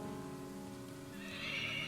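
A horse in the Dwarf Fortress video game gives a short, clear whinny alone, a rising neigh with faint clip-clop beneath it.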